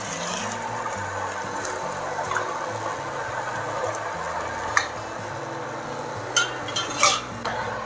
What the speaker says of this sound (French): on va venir mouiller notre risotto à hauteur avec notre bouillon de légumes